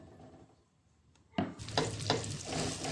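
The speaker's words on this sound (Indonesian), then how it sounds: "Kemudian masukkan bumbu yang kita iris tadi," Sliced spices are dropped into hot oil in a wok and start frying. The sizzle bursts out loudly after a quiet moment and keeps crackling up close, with a few sharp stirring scrapes.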